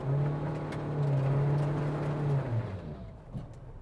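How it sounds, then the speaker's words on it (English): A Mahindra vehicle driving off-road at a steep angle, its engine holding a steady loud drone as it accelerates, then dropping away as it seems to bog down near the end. "I think I'm gonna keep accelerating here."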